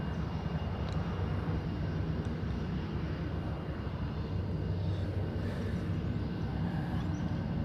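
A Jetstar passenger jet taking off for Melbourne gives a distant, steady engine roar that holds at a constant faint level throughout, with no voices.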